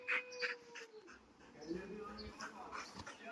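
A dog on a mango farm in Kutch gives soft, high whimpers and short yips, faint and close, with quiet talk and background noise around it.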